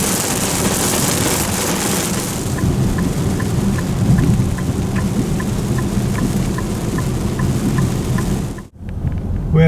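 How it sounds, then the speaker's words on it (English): Steady heavy rain hisses continuously, with a low rumbling undertone of thunder throughout and a brief dip near the end. "And it's raining."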